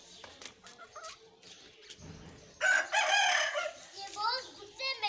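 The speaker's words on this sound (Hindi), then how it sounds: "जब तक मैं अपनी मुर्गियों को दाना पानी ना दूँ तो वो ऐसी बहुत सी शोर मचाती रहती है।" Chickens clucking and squawking close by on a rooftop, with a burst of loud agitated calls midway and a person speaking briefly.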